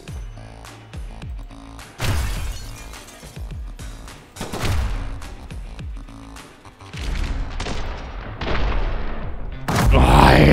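Shotgun blasts from The Hong Kong Massacre video game, a run of loud, sharp booms in quick bursts with clattering impacts between them, growing denser and louder toward the end.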